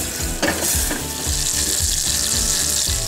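Star anise and a teaspoon of mustard seeds sizzle steadily in hot butter in a pan, a continuous close frying hiss with occasional small pops and scraping knocks, no voices.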